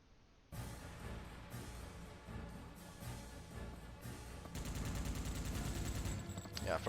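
Rapid gunfire and missile blasts from the PS2 shooter Monster Attack, firing at robots with an inaccurate gun, loud and continuous over a game music bed, intensifying into dense bursts near the end.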